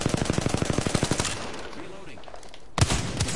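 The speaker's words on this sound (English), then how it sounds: "I think they're shooting them right now. Shooting us." Rapid automatic gunfire in a video game, a fast even string of loud shots that stops midway, then a lone sharp crack near the end, with a voice speaking over it.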